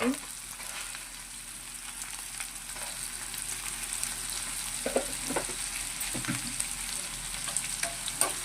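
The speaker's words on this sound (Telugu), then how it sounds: "కొంచెం ఫ్రై చేసేస్తున్నాం కొంచెం మంచిగా ఒక ఫిఫ్టీ పర్సెంట్ వేగితే సరిపోతుందండి" Onions with salt fry in a pan for a tomato egg curry, giving a continuous soft sizzle with a few scattered stirring scrapes and taps, close but fairly quiet.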